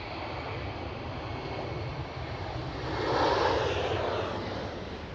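A KLM Airbus A330 departing Schiphol gives a steady, distant jet roar that swells a little toward the end, with no talking.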